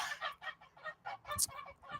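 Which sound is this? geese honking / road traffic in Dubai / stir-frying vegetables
geese honking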